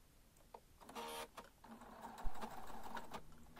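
A sewing machine fitted with a zipper foot stitches layers of fabric together, heard as short, close mechanical whirring bursts with clicks between them and a quiet background.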